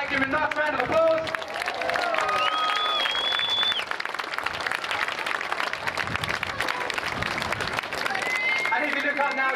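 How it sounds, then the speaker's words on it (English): A crowd at a Red Arrows air display claps and cheers for several seconds, continuous applause with a commentator's voice and a brief whistling tone above it. "Give him a nice round of applause."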